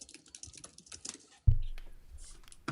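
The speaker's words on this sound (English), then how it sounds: "all this typing he's doing" Rapid keystrokes on a computer keyboard patter close by in an uneven run, broken by one louder thump partway through before lighter clicks resume.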